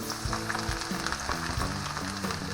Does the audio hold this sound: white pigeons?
no